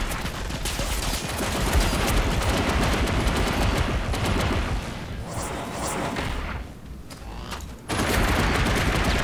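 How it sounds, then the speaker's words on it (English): Video game gunfire: a dense, continuous barrage of overlapping shots and impacts, loud and close, easing slightly for a moment before resuming at full strength. "I'm getting shot from frickin' several angles"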